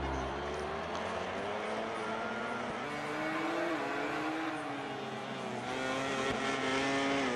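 A MotoGP 18 race replay carries a high-revving racing motorcycle engine, a steady whining drone with pitch rising and falling through gear changes, moderately loud throughout.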